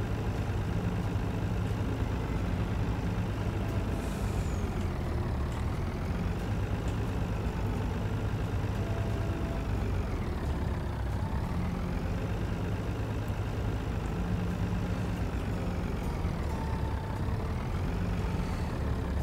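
A truck engine idles steadily in a farming simulator game, a low continuous rumble with a faint periodic rise and fall, loud and close throughout with no talking.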